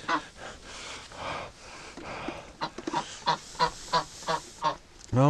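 A duck calling on a free-range farm, first breathy hissing noises and then a run of about six evenly spaced loud honking quacks, close by and with no talk.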